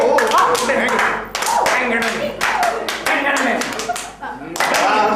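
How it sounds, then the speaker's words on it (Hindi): An audience at a comedy stage show claps in loud, close bursts of dense applause that swell and dip several times, with voices talking over it. "ताली जरा जोर से बजाओ।"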